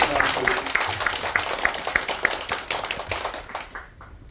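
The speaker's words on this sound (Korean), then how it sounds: "박수 한번 쳐주세요." A church congregation at a Sunday worship service gives a brief round of clapping, a dense patter of many hands that fades out over a few seconds in the hall.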